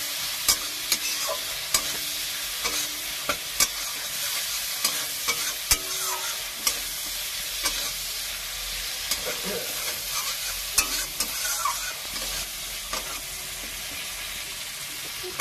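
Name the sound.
spice paste being sautéed in oil for amudi fish curry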